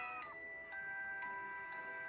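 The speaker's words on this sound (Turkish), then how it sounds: "onun yerine tanıdık bir kara kedi belirdi" A cat in a story video game meows several times in a row, soft and tonal against quiet background music.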